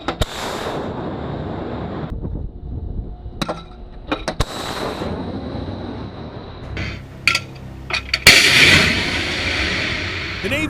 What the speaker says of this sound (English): Just how powerful is the U.S. Navy's supersonic SeaRAM missile system?